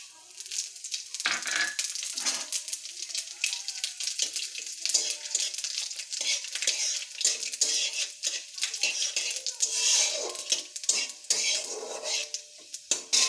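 Panch phoron whole spices dropped into hot oil for pickle-making and stirred, with bursts of crackling sizzle and repeated scraping, clinking strokes of a spatula against the pan, close and uneven in rhythm, no talk.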